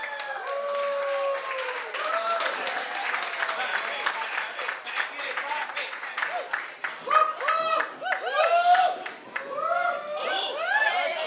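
Wedding guests applaud and cheer after the father of the groom is introduced for the first toast, a dense sustained burst of clapping with chatter and laughter through it, swelling toward the end.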